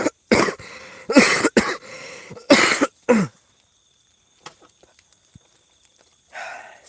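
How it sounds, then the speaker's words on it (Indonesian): A series of sharp, loud coughs in quick bursts, then quiet with faint distant sounds and a brief rustle at the end. "saya batuk lagi"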